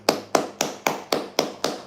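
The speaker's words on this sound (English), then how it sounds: "Everybody clap it up, clap it up, clap it up." Seven sharp hand claps in a steady, even rhythm, close and fairly loud, with a faint low hum underneath and no talking.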